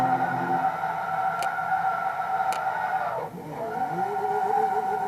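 A Nissan S14 drifts in the Forza 2 racing game, steady engine drone with sustained tire squeal, a shift dip midway, then revving back up, loud and continuous.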